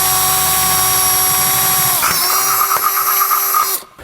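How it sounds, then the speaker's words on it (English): A power drill whines at high speed while boring and enlarging a hole through the frame of a 2022 Chevrolet, a loud steady pitched drone that shifts as the bit bites, then spins down at the end. "Now when drilling this through, we need to make sure to go all the way through the back here"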